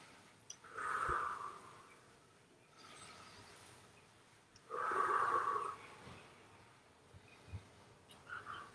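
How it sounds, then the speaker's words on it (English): Slow, smooth breathing during a yoga twist: two long airy breaths several seconds apart, soft and close, over a faint room hiss. "Long, smooth breaths out."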